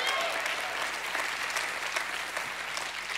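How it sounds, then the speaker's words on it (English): Sustained applause and hand clapping from a church congregation at an evening revival service, a dense, steady wash of many hands filling the room for several seconds. "Give God a hand clap and a shout of praise."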